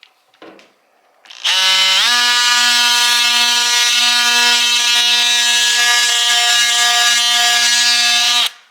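A loud, steady electric sander whine on a truck cab starts abruptly after a brief rustle and drones on evenly, alone, before cutting off at the end.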